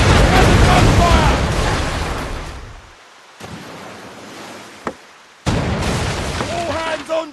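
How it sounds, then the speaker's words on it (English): Pirate ship cannons fire in a video game, a loud roaring blast that fades, then quieter thumps and a sharp crack before another heavy burst of noise. "Fire! Cannon gun fire!"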